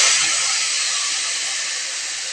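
White pork meat, rinsed several times, is dropped into a hot dry pan with no oil and sizzles loudly right away. The steady broadband hiss fades slightly over a couple of seconds, with no talking.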